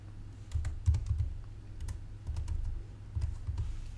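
Keys clatter on a computer keyboard as a file name is typed into a save dialog, quick uneven bursts of close clicks with short pauses between them.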